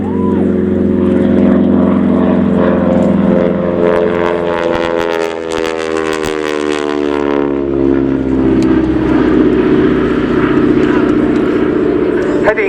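A North American Harvard 2B propeller trainer aircraft makes a final low pass at an airshow, its loud droning engine note rising and then falling in pitch as it roars by, with a commentator talking over it.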